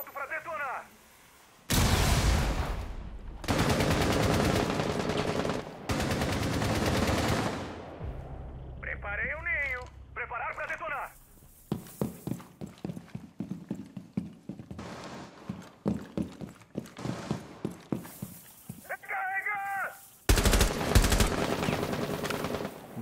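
Gunfire from the video game Rainbow Six Siege comes in rapid bursts and single shots, interspersed with louder blasts and in-game radio chatter, while players talk throughout.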